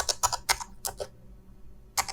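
A computer keyboard is typed on up close, with a quick burst of crisp key clicks, a short pause, and then one more keystroke.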